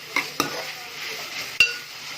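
Ginger garlic paste being stirred in a pan while it cooks down for a prawn and bitter gourd curry: a few sharp utensil scrapes and clinks against the pan over a faint sizzle, with no talk.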